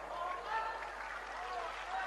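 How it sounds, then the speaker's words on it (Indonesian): Audience applause fills a religious lecture hall, a broad steady wash of clapping from a crowd throughout, close and fairly loud with no pauses. "Tepuk tangan melulu."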